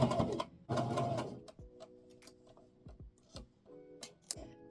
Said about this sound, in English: Sewing back stitch.